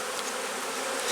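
Honeybees, including many nurse bees and drones, buzz on a hive frame lifted from a walk-away split, a steady dense hum that fills the short moment without any talk.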